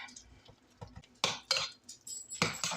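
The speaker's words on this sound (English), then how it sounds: "So I just mix the dressing on top of the spinach, and then I mix it all together" A spoon clinks and scrapes against a bowl while spinach salad is tossed with dressing, with a few soft taps followed by sharper, brighter clatters near the end. The sounds are quiet and close, and no one speaks.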